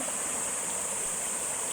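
The Alangan river in Limay, Bataan, flows steadily with a constant rushing wash of water, close and even, with no voices.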